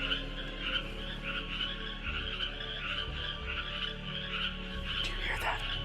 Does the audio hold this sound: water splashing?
no